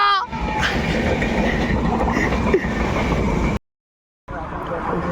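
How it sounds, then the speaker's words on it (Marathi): A loud, continuous rumble of a train running close by, steady and heavy, with a voice calling out briefly; the sound cuts off abruptly near the end. "ट्रेन आली, धावा."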